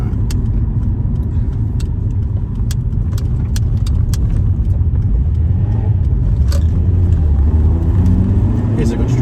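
A car with a Honda K20A2 VTEC engine, lower compression and 197 horsepower, drones with a steady low engine note and road rumble heard from inside the cabin, with light rattles and clicks throughout.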